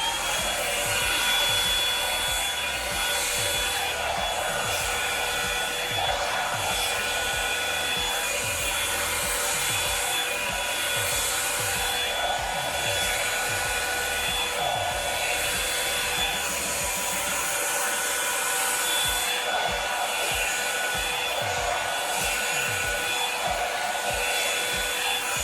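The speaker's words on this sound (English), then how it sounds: "I've used this blow dryer a few times before" A Revlon One-Step hair dryer and styler blows continuously, a loud, even whooshing roar that holds steady for the whole stretch with no voices.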